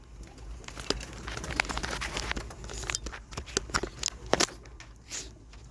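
Pigeons at a bird shower, with soft cooing and wing flutters mixed with splashing and shuffling noise, steady and close throughout, with a few sharper clicks and flaps near the end.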